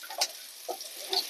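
Dried shutki fish fries in a pan while being stirred, a short burst of soft sizzling with a few quick scraping strokes, close and fairly quiet.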